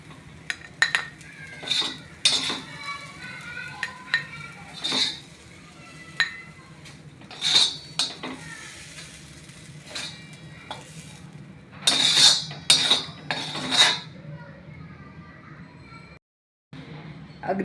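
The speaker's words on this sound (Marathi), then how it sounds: "चला आता आपण याला वाटीत काढून घेऊया." A spoon scrapes and clinks against a pan and bowl while serving spicy green chili and onion thecha, irregular metallic taps and stirring scrapes in short clusters over faint background sizzle.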